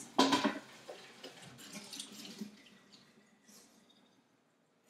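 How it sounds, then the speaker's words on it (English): Water runs into a sink while a small tadpole tank is rinsed, a loud splashing burst at first, then softer trickles and drips that fade toward near silence. "I'm gonna give it a quick rinse."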